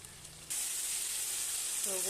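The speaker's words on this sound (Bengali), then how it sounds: "মশলাটাকে একটু কষিয়ে তারপর মাংসটা দেব" A spice paste with green chillies fries in a pan for a meat curry: a loud, even sizzle bursts in abruptly and holds steady, with a brief faint voice-like tone near the end.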